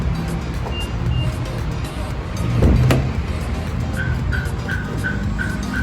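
A Mitsubishi Attrage is unlocked with its smart key and its trunk is opened at a locksmith's shop. A sharp click lands near the middle, followed by a run of short, evenly spaced electronic beeps, all over steady background hum.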